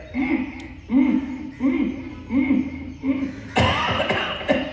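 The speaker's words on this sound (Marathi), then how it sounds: "असा खोकला आला पाहिजे" Five rhythmic, throaty coughs during a yoga breathing exercise in a steady pattern, followed by a sharper burst of breathy noise at the end.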